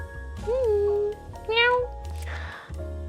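Cartoonish cat meows from the video game 100 capitalist cats, two clear rising-falling meows in quick succession over a steady electronic background hum, followed by a short noisy rustle.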